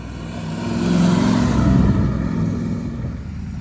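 A Triumph Stag's V8 engine burbles steadily and close by while driving, a deep continuous rumble that swells slightly midway through before easing off.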